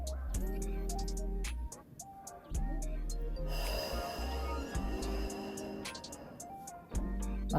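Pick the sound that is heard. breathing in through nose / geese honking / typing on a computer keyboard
breathing in through nose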